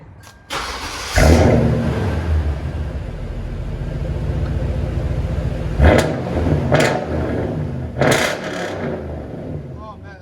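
A 2007 Toyota Tundra with a 5.7L V8 rumbles through its exhaust, idling with a deep steady drone and sharp revs breaking in a few times, loud and close, with some voices over it.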